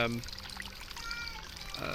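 Water trickling and pouring from drip irrigation emitters on tiered garden beds, a steady, faint, close flow with a voice heard briefly at the start.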